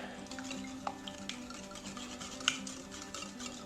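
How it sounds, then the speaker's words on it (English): Coconut sugar mixture is whisked in a bowl, making faint, quick scratching taps of the whisk against the sides. One sharper clink stands out, and there is no talking. "Now you just wanna whisk this all together."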